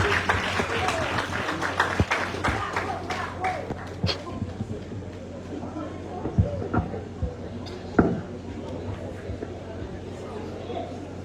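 An audience applauding at a school centenary celebration in La Vallée, a crowd clapping loudly that thins out into scattered claps, with voices and chatter in the room.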